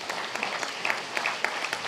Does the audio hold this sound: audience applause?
yes